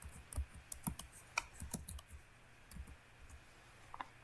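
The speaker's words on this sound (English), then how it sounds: "I'm going to type extend." Keys on a computer keyboard tapped while drafting floor and foundation plans in CAD, with scattered light clicks spaced irregularly at close range, fairly quiet against a soft background hiss; no talking.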